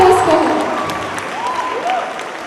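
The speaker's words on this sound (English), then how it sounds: "Let's have a huge round of applause for her." Applause from an audience at a school felicitation event for a Miss Diva Universe 2018 winner, a steady wash of clapping from a crowd with a voice speaking over it.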